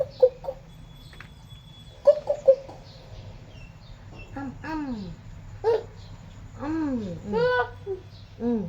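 Chickens cluck in scattered, rising bursts, some sharp and some drawn out, fairly close by, while a person talks in between the calls.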